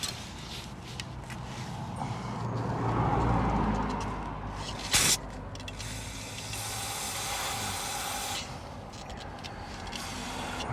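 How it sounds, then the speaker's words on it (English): Brake cleaner sprays in sustained, hissing bursts onto a jammed cotter pin on a 1982 Rampage, with a sharp louder spurt midway and steady aerosol hiss throughout. "time to get out the brake clean"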